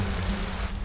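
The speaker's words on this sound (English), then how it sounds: "that rain is clearly freezing when it hits the cold ground" Freezing rain in a cartoon winter storm patters steadily onto cold ground, a soft continuous hiss of falling drops heard close and alone with no voices.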